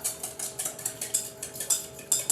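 A whisk beating seasoning with salt and pepper in a bowl for baked "fried" chicken, quick rhythmic metallic clicks and swishes repeating about five times a second, close and clear with no talk.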